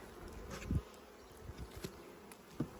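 Honey bees hum around an open hive, a faint, steady buzz with individual insects passing close to the microphone now and then, no voices.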